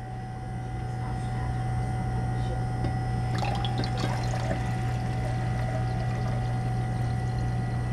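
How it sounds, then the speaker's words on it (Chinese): About 800 millilitres of water is poured into a container in a lab setting, a steady sloshing pour over a constant background hum with a few splashy bursts midway, no talking. "我们旁边已经准备好800毫升的水。 加进去，稍后准备进行搅拌。"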